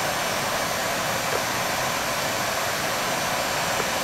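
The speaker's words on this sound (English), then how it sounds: "I'm going to turn on my heat gun." A heat gun blows with a steady, loud, continuous airy roar during a shielded aircraft wire repair, close by and unbroken, with no talking.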